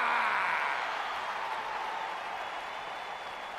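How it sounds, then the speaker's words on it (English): Crowd applause in a WWE2K20 wrestling arena, a steady wash of clapping and cheering that stays fairly loud and slowly fades a little, with no speech over it. "Clap for your best of 5 series host and feel the power."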